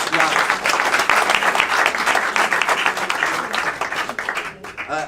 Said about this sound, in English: round of applause for our debaters